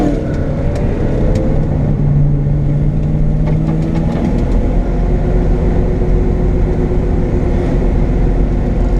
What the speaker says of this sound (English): That Harley's going pretty good.